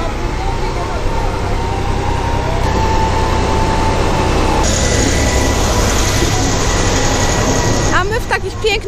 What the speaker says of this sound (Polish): Trudno nie usłyszeć, że pociąg rusza